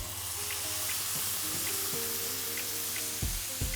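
Lamb fillet sears in a hot pan with a steady, close sizzle and crackle of fat, a low hum beneath, and two heavier knocks near the end as the meat or pan is shifted.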